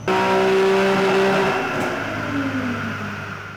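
A Nissan 370Z engine revving hard on a dynamometer, a loud sustained rising and falling engine note that eases off over a few seconds, with no talk.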